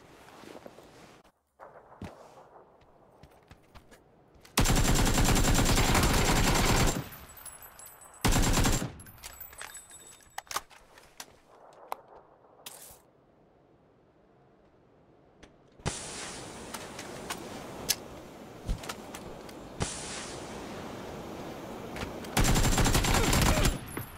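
Bursts of automatic gunfire from a bot in PUBG, several loud sustained volleys of rapid shots broken by quieter stretches with faint footsteps and movement sounds.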